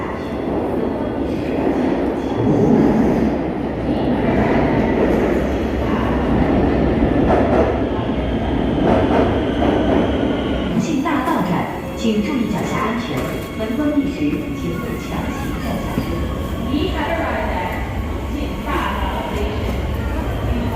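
A subway train pulls into a station with a loud, continuous rumble and rattling wheels that ease as it slows, while a platform announcement and people's voices carry over it.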